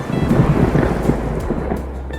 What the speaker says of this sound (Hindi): बरसात अब तेज हो चुकी थी।